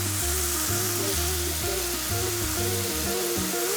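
Ground chicken stir-frying in a hot pan gives a steady, close sizzle with a broad hiss and some low hum underneath, continuous for the whole stretch, with no voices.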